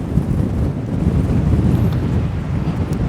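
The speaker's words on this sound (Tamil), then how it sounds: "உண்மையிலே பயங்கரமாக காற்று அடிக்குது." Strong, steady wind roars across the microphone by the sea at Kilali lagoon, a continuous low buffeting rumble with gusts that never let up, no voices heard.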